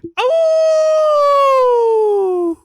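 A person imitates a wolf howl with one long sustained voiced tone that rises briefly at the start and slowly falls, loud and close, preceded by a short vocal sound.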